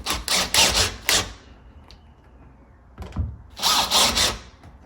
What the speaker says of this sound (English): we'll go ahead and tighten these 2 screws here